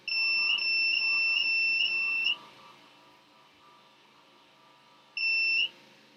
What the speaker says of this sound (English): Mary, did you hear that beep?